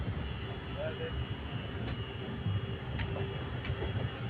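Prayagraj Express running behind a WAG-12 electric locomotive, heard as a steady dense rumble of wheels and carriage noise, with a few faint ticks and clicks over the continuous roar.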